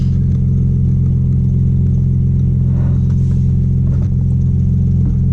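A 1990s Audi B5 S4 engine idles steadily after a new 3-bar MAP sensor install, a constant low rumble with a smooth, even note held throughout at close range.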